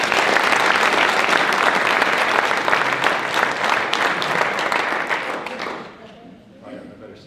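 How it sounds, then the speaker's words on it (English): A crowd at an elementary school ribbon cutting ceremony gives a sustained round of applause, dense and loud for about five seconds, then fading out into a quieter room with faint voices. "Let's give him another round of applause."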